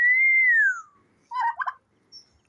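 A turkey gobbling on a farm, a loud, close, sliding whistle-like call followed by a short burst of rattling gobbles and a faint final note, with no talking.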